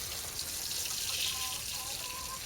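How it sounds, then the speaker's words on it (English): Water pours steadily from a watering can onto freshly planted ginger in allotment soil, a continuous close splashing and trickling stream with no talk. "all you need to do then is give it a nice water."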